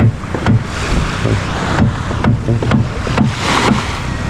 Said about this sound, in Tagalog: Ito bangka ni Mil guys, ang ginamit din ni Idol kahapon